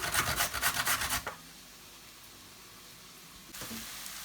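Carrots rubbed against a kitchen grater for borscht dressing, a quick series of loud rasping strokes for about a second, then near silence with faint kitchen noise.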